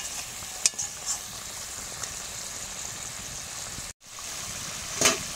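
Paneer cooks in curry in a pan with a soft, continuous sizzle and a few small pops and spatters, fairly quiet throughout.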